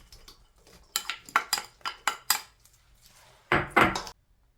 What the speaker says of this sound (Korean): 대파를 반 뿌리 쫑쫑 썰어 놓은 거 다 넣을게요.